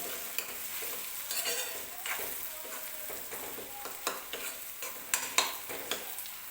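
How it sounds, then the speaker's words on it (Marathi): Ground masala paste roasts in a pan over low gas, a continuous sizzle broken by repeated sharp scrapes and stirring clicks of a spoon, close and fairly loud. "गॅस थोडा बारीक करून व्यवस्थित मसाला भाजून घेऊया आपण"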